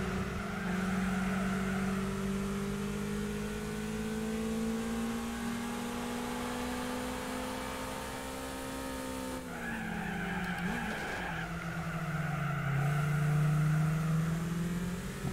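A Gran Turismo 4 race car holds a droning engine note under long, wavering tire squeals as it slides through corners, with a shift in pitch partway and the skid returning louder near the end, no talking.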